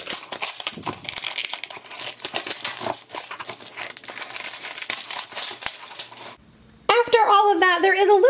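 Plastic wrapping crinkles and crackles up close as it is peeled off a Pikmi Pops Jumbo Doughmis toy container, in a long, busy run of rustles, followed by a voice speaking at the end.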